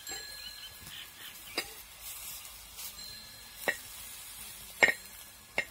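Vegetable dumplings frying in a pan give a faint, low sizzle broken by a few sharp scrapes and clacks as they are flipped and moved around, with no talk.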